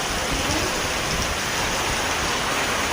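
Heavy out-of-season rain pouring down, a dense, loud, unbroken hiss of drops hitting surfaces all around.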